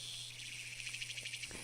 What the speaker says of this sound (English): We realized the cries of the cicadas were getting fewer